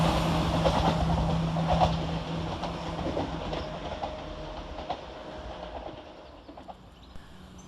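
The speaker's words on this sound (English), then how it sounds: "coming out the tunnel the opposite way is 17403, working 2 Lima 56 from Dundee to Edinburgh Waverley" Class 170 passenger trains (17403 and 17450) emerge from the tunnel at North Queensferry station in Fife, a steady rolling rumble with wheel clatter and a tonal hum, moderately near and fading slightly, with birds faint in the background.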